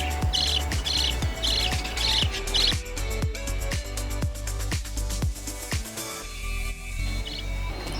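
Two young budgie chicks in an indoor bird room give loud, rapid, repeated squawking chirps close by, with a steady rhythm of sharp calls over faint background bird chatter.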